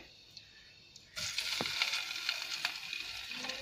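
After a quiet moment, a sudden loud sizzle erupts as squeezed boiled radish and radish leaves hit hot oil, then crackles and hisses steadily close by.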